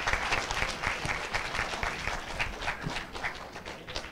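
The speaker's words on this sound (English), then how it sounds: "We get another round of applause." An audience claps at a school spelling bee, a lively burst of individual hand claps, close and fairly loud, that thins slightly toward the end.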